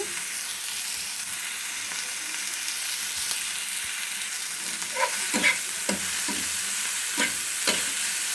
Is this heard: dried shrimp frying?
yes